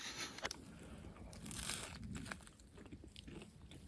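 Someone bites and chews a steak sandwich on cheese bread, with soft crunches close to the listener. This happens during winter camping, and faint outdoor ambience sits under the quiet chewing.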